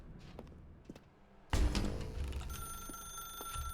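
In The Stanley Parable, a telephone starts ringing abruptly partway through, loud and close after a quiet, sparse stretch. Its bright, sustained tones hold steady to the end.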